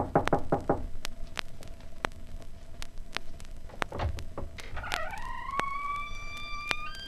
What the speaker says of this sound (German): Huck nimmt allen Mut zusammen und klopft an die Tür.